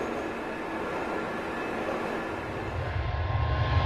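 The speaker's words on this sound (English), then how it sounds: "The sound inside a subway car is about 90 decibels." Loud, steady rumbling roar inside a moving subway car, about 90 decibels, a broad continuous noise with a deeper low rumble building in the final second.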